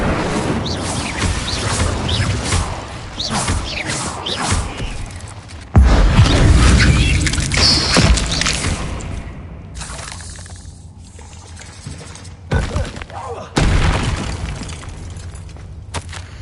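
The Incendio fire spell is cast again and again in Hogwarts Legacy on PlayStation 5, bursts of whooshing, crackling flame with booming hits rising and falling over game sound, with loud surges at intervals.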